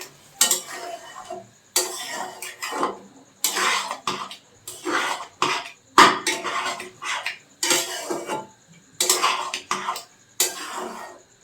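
Ingredients for tarka dal being mixed in a pot, with a utensil scraping and clanking against metal in repeated short bursts separated by brief pauses, close and fairly loud.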